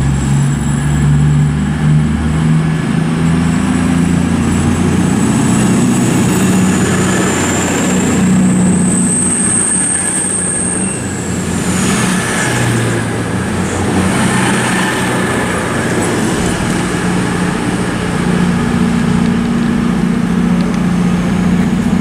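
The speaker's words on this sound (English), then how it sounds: "Departing as well here is the 1612 to Newcastle." A train pulls out of Oxford station on the service to Newcastle, a loud sustained diesel engine drone with a rising whine that peaks midway and then fades as the train moves off, steady rumble throughout.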